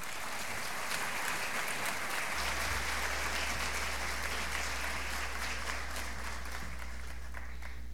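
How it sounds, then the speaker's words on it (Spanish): At a school event in Siquirres, Costa Rica, an audience claps for someone speaker from the Grano de Oro school, giving steady, moderately faint applause from a crowd, with a low constant hum underneath. "La recibimos con un cariñoso aplauso."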